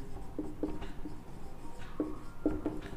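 Pen writing out a geometry solution on paper, with scratchy strokes in short bursts spread across the moment, close and quiet, no talking.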